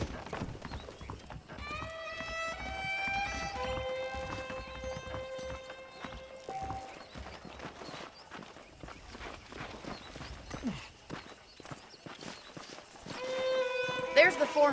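Saddled horses clip-clopping in the Red Dead Redemption video game, a steady rhythm of hoof beats on the ground that continues under voices talking throughout.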